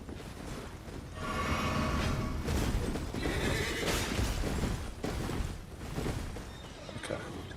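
A horse in the Elden Ring video game neighs and whinnies with clip-clop hoofbeats, repeated bursts over several seconds at moderate loudness with no talking.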